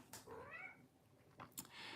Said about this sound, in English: If you hear somebody meowing, that's my cat here, needs attention.